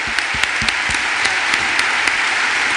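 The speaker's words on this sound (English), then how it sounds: "A round of applause, please, to Magdalena for an amazing interview" An audience at a WCIT 2019 conference hall applauds after an interview, sustained crowd clapping with a few sharper claps standing out, loud and continuous across the whole stretch.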